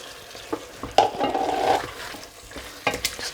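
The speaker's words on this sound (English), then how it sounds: "Just give that a mix" Chicken pieces being stirred into pulao in a pressure cooker, with a sizzling, frying scrape that swells for about a second, then lighter stirring clatter and occasional utensil knocks.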